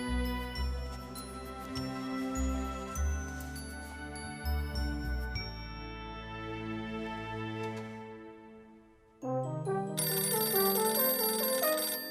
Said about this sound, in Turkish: Niye kimse açmıyor Şato'nun telefonunu? Bu kaçıncı çaldırışım?